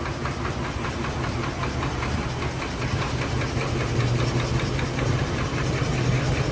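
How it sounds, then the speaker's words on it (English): A Fairbanks Morse stationary engine drives a line shaft in a foundry and machine shop, with a steady knocking rumble and a constant low drone that hold throughout. "Line shaft, just incredible. Everything's run by this Fairbanks Morris."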